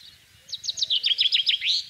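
A chaffinch sings, starting with faint notes and then a quick series of repeated descending phrases that ends in a rising final flourish. The song is close and clear over a quiet background, with no talk.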